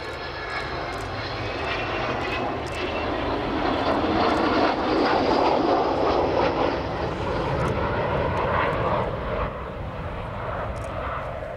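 An Avro Vulcan B2 jet bomber roars steadily overhead at an air show, a loud broad rumble that swells toward the middle and then eases slightly.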